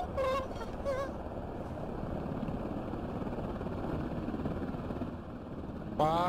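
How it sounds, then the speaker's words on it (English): A steady helicopter rotor drone in the video game Squad fills the scene, loud and continuous, with brief voices speaking at the start and end. "Helicopter, helicopter."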